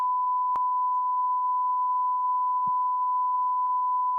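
A steady electronic beep tone from a Sonic VR video game holds unbroken and loud throughout, with a couple of faint clicks and a brief low thump along the way.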